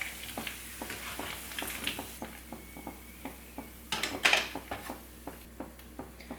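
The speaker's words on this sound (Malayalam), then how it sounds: "ഇപ്പോൾ ഇതേ ചിക്കൻ എല്ലാം അടിപൊളിയായിട്ട് ഫ്രൈ ആയിട്ട് വന്നിട്ടുണ്ട്" Boneless chicken pieces fry in oil for chilli chicken, making a soft continuous sizzle broken by regular light clicks and taps of a utensil, with a brief louder scrape near the end.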